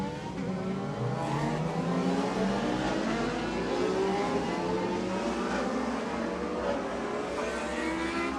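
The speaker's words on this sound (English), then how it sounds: "So the bikes have left again for another warm-up lap." Racing motorcycles at a USBK superbike meeting at Bishopscourt pull away from the grid for a warm-up lap, a dense wash of revving engines rising and falling in pitch, continuous and moderately distant, with no speech.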